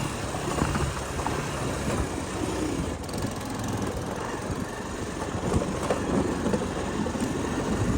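A tractor engine rumbles on a rural hill road near Bongadovan, its low, steady drone holding at moderate loudness throughout without clear build-up or fade.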